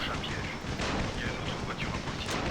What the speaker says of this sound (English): So I'm just going to be throwing these firecrackers.